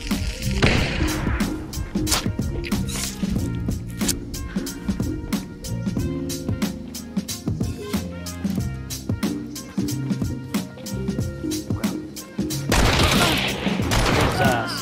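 Gunfire in the multiplayer shooter Hunt: Showdown, with a dense, loud barrage of shotgun and other weapon blasts mixed with game music and effects running continuously, a heavier burst near the end.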